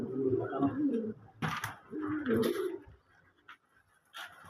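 Doves and pigeons calling in a bird enclosure with eggs and chicks, soft low cooing phrases repeated several times up close, with other faint bird sounds around them.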